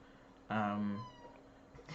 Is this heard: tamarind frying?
no